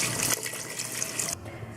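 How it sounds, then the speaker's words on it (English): Water poured into a pot of spelt cooking on a stove, a steady splashing pour under a broad hiss that cuts off near the end, with no talking. "and I'm gonna add some more water"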